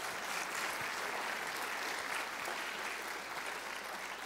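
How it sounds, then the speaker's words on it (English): An audience claps steadily, a dense, even wash of applause that holds for several seconds without letting up. "Can we give them a hand clap one more time?"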